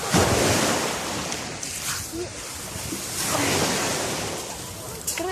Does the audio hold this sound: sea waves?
yes